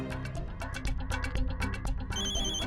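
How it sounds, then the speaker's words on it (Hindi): A phone ringtone plays a bright, repeating electronic melody, fairly close and steady, with no one speaking. "फोन आया। फोन किसका फोन है? जल्दी उठाओ फोन।"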